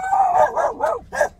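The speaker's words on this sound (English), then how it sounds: "Pack of dogs terrorizing the neighborhood." Several dogs from a roaming pack bark and yelp close by outdoors, with a quick burst of four or five overlapping, howl-tinged barks.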